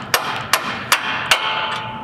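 Four loud, evenly spaced hammer blows strike a nut threaded on a bolt close by, driving the bolt through during a 2018 Ford Raptor suspension install, each a sharp ringing hit with short pauses between.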